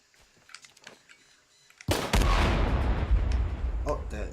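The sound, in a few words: gunshots from the video game Shadow of the Tomb Raider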